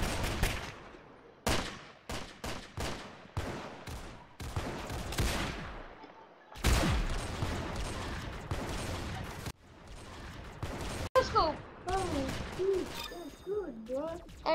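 Sniper rifle shots fired without a scope in a video game crack out in repeated sharp bursts, loud and close, with echoing tails. Other game sounds and whistling tones follow near the end.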